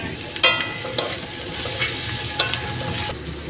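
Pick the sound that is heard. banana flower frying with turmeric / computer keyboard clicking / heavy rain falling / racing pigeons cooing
banana flower frying with turmeric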